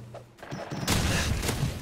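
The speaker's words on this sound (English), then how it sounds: "Grenade out." Call of Duty 4 gameplay with a grenade going off, a sudden broad explosive boom that keeps rumbling and crackling for about a second after a brief quieter lead-in.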